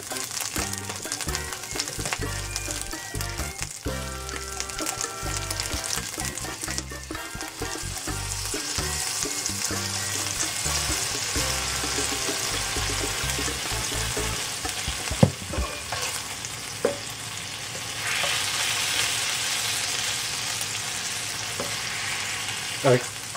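Garlic honey chicken wing sauce with soy sauce just added sizzles and bubbles steadily in a hot pan, a continuous loud frying hiss with occasional stirring clatter and no voices.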